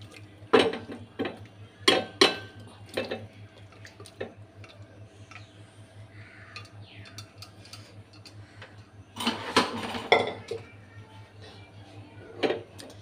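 Cooked chicken curry is served out of a pressure cooker with utensils, making clusters of sharp metallic clinks and taps over a low steady hum, with a quieter stretch in the middle.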